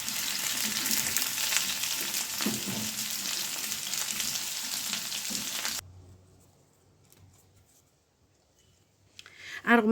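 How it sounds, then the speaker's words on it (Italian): Zucchini frying in still-hot oil left from browning a garlic clove, a dense steady sizzle for the first half that cuts off abruptly to near silence, then a faint clatter at the end. "butto le zucchine nell'olio ancora caldo"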